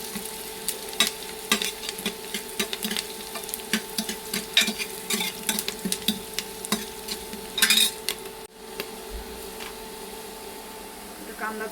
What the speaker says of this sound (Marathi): कांद्याला चांगला लालसर कलर येऊपर्यंत आपल्याला भाजून घ्यायचा आहे